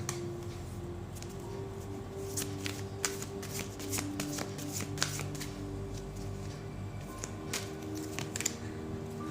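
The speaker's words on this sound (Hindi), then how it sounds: "I will take one more card from this deck." Tarot cards shuffled and drawn from a deck during a reading, giving a steady run of soft, papery riffles and flicks, close and fairly quiet, with a faint hum underneath and no talking.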